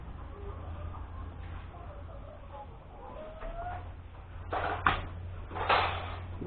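Laying hens clucking inside a chicken cage, a few short bursts of clucks rising near the end over a steady low hum, no voices over them.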